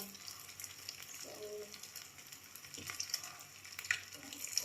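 A sardine and egg roll browning in a frying pan, a soft steady sizzle with faint scrapes and clinks, quiet and close, with no talk.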